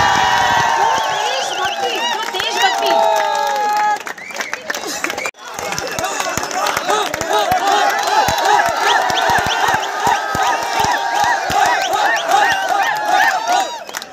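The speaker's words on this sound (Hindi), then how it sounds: "सो जरा अनुराग के लिए यार जरा जोरदार ताली" A crowd at a 21-kilometre marathon in Dehradun claps and cheers loudly for a runner, a dense, continuous roar of applause and shouting that drops out briefly partway through, with voices mixed in.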